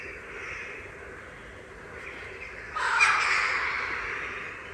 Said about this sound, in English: The crows are coming.